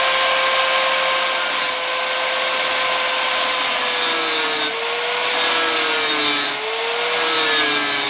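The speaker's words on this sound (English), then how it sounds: "I need to just grind down a little bit of that weld on the edge" A grinder works down a weld on the edge of a metal exhaust baffle, giving a steady, loud, high whine with layered overtones that dips in pitch twice as it bites into the metal.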